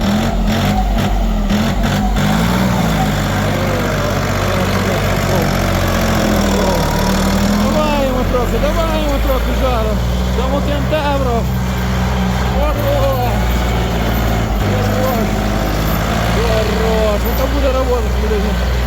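A Kentavr 244S small tractor engine runs steadily and loudly throughout, a low rumbling drone with voices talking over it.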